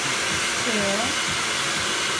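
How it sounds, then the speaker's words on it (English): A hair dryer runs on during a big, bouncy salon blow-dry, its steady, close airflow roar filling the whole stretch without a break, left switched on while a brief faint voice slips in underneath. "We're going to put the dryer down and not turn it off."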